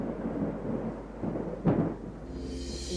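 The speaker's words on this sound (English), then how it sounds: "When the rain falls hard, anywhere can flood, but you can stay safe if you're prepared." A thunderstorm with heavy rain, with a steady wash of rainfall under a single sharp thunder crack near the middle, followed by continuing rain noise.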